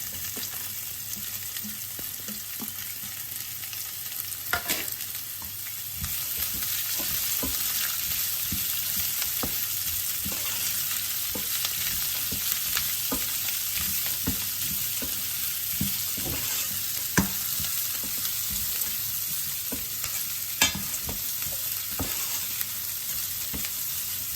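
Onions sizzle steadily in a hot pan while poha (flattened rice) upma is made, with occasional scrapes and soft clatters from stirring; no one talks.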